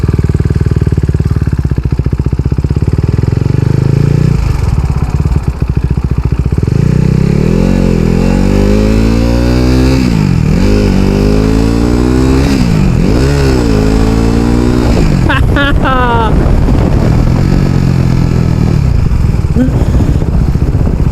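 KTM RC 390 motorcycle with a 390cc engine, loud and close, idling, then revved repeatedly in rising and falling bursts, with a quicker run of revs near the end.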